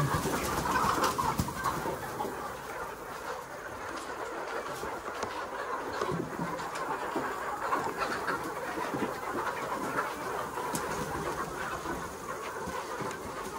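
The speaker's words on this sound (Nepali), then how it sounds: "यी कुखुराहरूलाई अहिले समातेर काट्नु पर्छ" Chickens clucking and chattering steadily over a constant noisy background, a flock murmuring on with no clear pauses.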